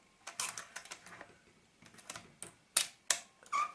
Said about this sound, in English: I can fire the shutter.